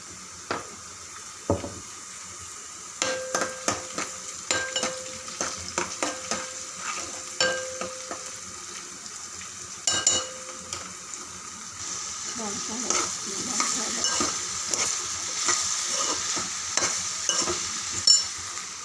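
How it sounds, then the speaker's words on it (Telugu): Chopped onions and green chillies fry in a pan, sizzling steadily up close. Repeated stirring clacks and scrapes of a utensil against the metal come in irregular bursts, with faint kitchen clatter behind. "ఉల్లిగడ్డలు, పచ్చిమిరపకాయలు వేసుకున్నాం"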